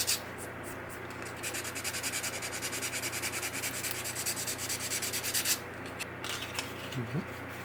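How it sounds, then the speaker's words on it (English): Close, steady back-and-forth rasping of 220-grit sandpaper rubbed by hand over an old car part during prop-style restoration, rhythmic strokes continuing throughout with a brief pause near the end. "I'm going with the 220 at this point, and we'll be working our way up from here."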